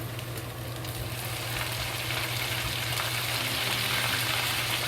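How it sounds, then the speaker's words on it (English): Ginger and scallion sizzling in rendered bacon fat in a wok for stir-fried shredded potatoes with bacon; a steady, moderately loud hiss that swells slightly over a few seconds, with no talk. "When the bacon become crispy and most fat come out, then we put the ginger into it."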